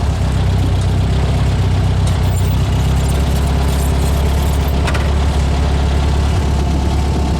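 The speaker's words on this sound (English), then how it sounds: "It's a noisy car." A Volkswagen car with a 2110 engine conversion idles with a loud, constant low rumble and rattle, steady throughout with no other sounds standing out.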